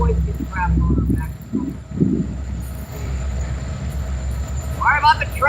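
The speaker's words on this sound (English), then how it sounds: "Sorry about the train." A train rolls past a freshwater fishing spot with a loud low rumble of rail cars, some voices mixed in, and a burst of high wheel squeal near the end.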